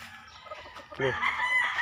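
Young gamecock stags in a backyard breeding yard; after soft background clucks, a close crow starts midway and carries on until the end.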